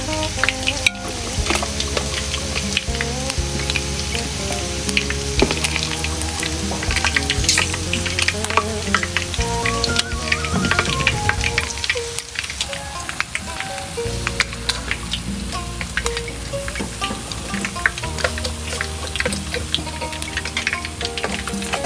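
Chicken thighs fry in fish sauce in a pan, giving a steady close crackle and sizzle of hot oil with occasional stirring, continuous and busy throughout.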